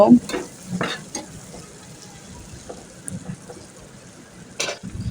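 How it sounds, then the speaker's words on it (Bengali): Chopped onions, two medium ones, fry in oil in a pan, a soft steady sizzle broken by a few louder scraping stirs near the start and again near the end, with no talking. "এবার একই একই তেলের মধ্যে পেঁয়াজ কুচি দিয়ে দেব"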